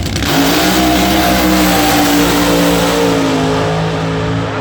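A doorslammer drag racing car at a Meremere strip tears down the track at full throttle, its loud, steady engine roar holding a rising harmonic drone for several seconds, close and dense with no voices.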